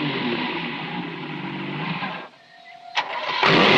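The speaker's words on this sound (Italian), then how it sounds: "Ho girato la chiavetta, il motore è partito." A 1970s car engine catches after an ignition key is turned, a loud running rumble that drops away briefly, then a click and a sharp surge as the motor roars again.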